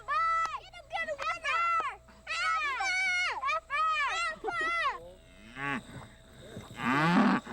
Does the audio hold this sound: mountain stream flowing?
no